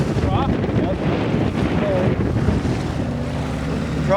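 A new boat pounds through big waves on Lake Michigan in March, with steady heavy wind roar buffeting the microphone and a continuous low rumble of water and hull throughout.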